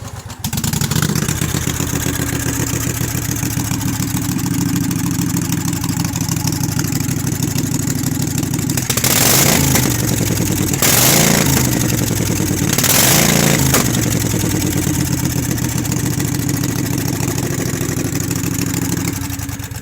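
A small carbureted engine on a Murray build runs steadily, a loud close chugging idle with a fast even beat, rising in three brief revs near the middle before settling back to idle.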